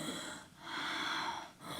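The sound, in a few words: open-mouth snoring breath, like Darth Vader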